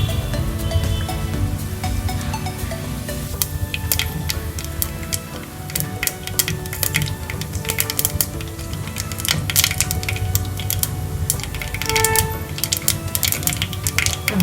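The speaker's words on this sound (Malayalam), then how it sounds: "കടുക് പൊട്ടി, ഉലുവായും പൊട്ടി." Mustard seeds and fenugreek splutter in hot oil for a Kerala-style sardine curry, making a dense run of sharp popping clicks and crackles over a low background hum, close and continuous, with no talking.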